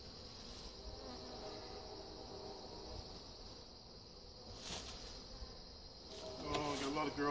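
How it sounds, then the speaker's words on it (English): Honey bees buzz steadily around a hive during installation of new bees, a continuous high insect drone with a brief louder swell near the end. "Any bees that's left out, they'll still run the hive wherever they smell the queen pheromones at"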